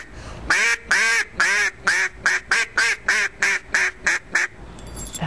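A duck call blown to imitate a mallard hen's greeting call, as if sitting on a pond: a loud, clear series of about ten evenly spaced quacks, slightly descending in pace, close and alone with no talk.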